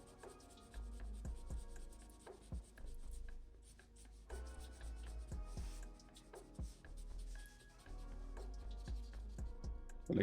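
An ink pen hatches lines on paper while a lion cub is drawn, giving quiet, steady scratchy strokes in a repeated rhythm with small taps, faint and close throughout.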